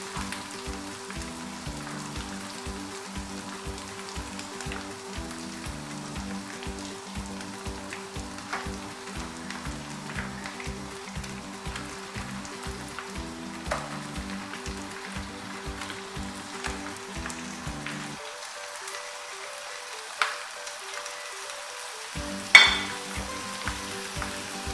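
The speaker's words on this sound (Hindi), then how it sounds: "अच्छी तरह भून लेते हैं" Chicken frying in oil for a curry, a continuous soft sizzle with rapid, regular scraping or stirring beneath it, a brief dropout near the end, and a couple of louder clinks.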